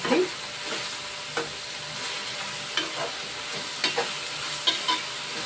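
Chana dal and small onion pieces frying in oil in a pan, a steady close sizzle with occasional sharp spatula scrapes and taps, no talking.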